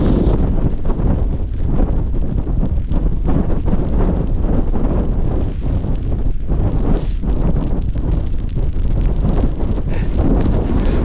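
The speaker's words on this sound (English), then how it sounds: "The wind's blowing that way" Strong, steady wind buffets a rainy campsite, a dense roaring rush with constant gust-driven flutter and buffeting, loud and close throughout with no talk.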